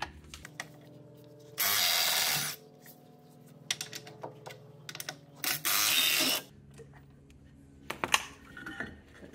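Ratchet wrench working the two rear caliper mounting bolts on a 2013 Tesla Model S front brake, heard as two loud, sustained bursts of rapid clicking separated by quieter clanks and handling noises.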